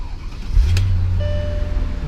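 A car engine, likely one of a Honda Fit RS, Mercedes W220 or Subaru Forester, starts up and settles into a steady low idle heard from nearby, no talking.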